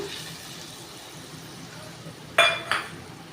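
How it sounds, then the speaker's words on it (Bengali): Rinsing a bowl in a kitchen while making a tangy small-fish curry: a quiet background hiss, then two short, bright clinks and splashes near the end, close by. "বাটিটা ধুয়ে একটু জল দিলাম।"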